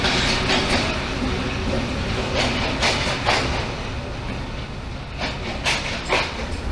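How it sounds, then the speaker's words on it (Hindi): The Gauri Express passenger train bound for Lahore rumbles at Faisalabad railway station, a steady broad noise with faint clicks and hiss from the platform. "ये जो लाहौर को ट्रेन जा रही है"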